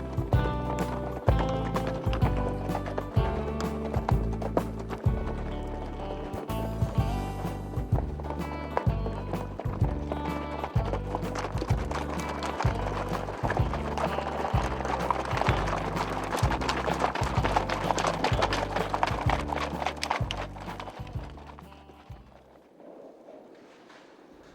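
Young horses' hooves beat a steady, rhythmic gait on a training ride, loud and close, with layered clip-clop strikes repeating throughout before fading near the end.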